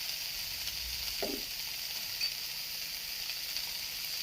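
Water splashes into a pan of frying shrimp heads, a brief burst over a steady, soft hiss of sizzling that carries on quietly afterward.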